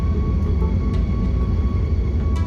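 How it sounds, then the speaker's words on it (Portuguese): A passenger jet takes off in snow, heard from inside the cabin as a steady, loud, deep engine roar with a faint whine held above it. "seguimos para a decolagem em um voo de 6 horas e 35 minutos até o Brasil"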